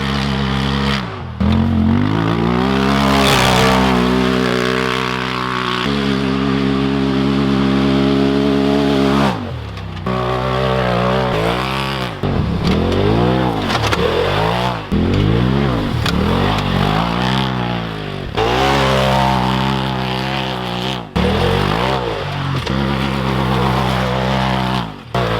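A loud Polaris RZR Turbo S side-by-side with an aftermarket exhaust revs and roars repeatedly, its raspy exhaust rising and falling through gear changes, close by and dominating throughout.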